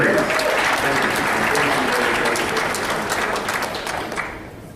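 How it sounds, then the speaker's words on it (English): An audience claps for Trudy, a full round of applause that stays dense and steady before tapering off toward the end, with some voices faintly under it. "a big round of applause for Trudy, please"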